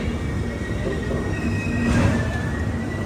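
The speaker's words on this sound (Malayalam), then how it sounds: "ട്രെയിൻ ഇതാ ഭുവനേശ്വർ റെയിൽവേ സ്റ്റേഷനിലേക്ക് എത്തിക്കൊണ്ടിരിക്കുകയാണ്" The Vivek Express pulls into Bhubaneswar railway station with a continuous heavy rumble of wheels on rails and a thin, drawn-out squeal of braking wheels, loud and close throughout.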